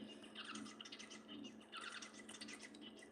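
Society finches, a small pet bird breed originating from Japan, chirp and twitter inside a partly shaded cage in two busy bursts of high, thin calls over a steady low background hum.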